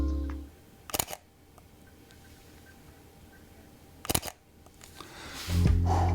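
Two soft, well-damped shutter releases from a Leica M10R rangefinder camera held close, each a brief muffled double click several seconds apart against near silence, then some handling rustle at the end.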